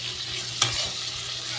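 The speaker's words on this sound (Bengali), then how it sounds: "উচ্ছেটা একটু ভাজা হবে, একটু বেশ ভালো ভাজা হবে" Bitter gourd frying in oil in a pan gives a steady, close sizzling hiss, broken once by a short clink of a spoon stirring.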